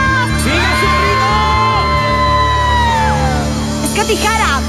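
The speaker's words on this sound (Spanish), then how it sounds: "¡El grito de las chicas!" Girls in a concert crowd at a live banda performance shout and whoop, rising high yells and cries layered over loud music with steady bass, building into a burst of excited whoops near the end.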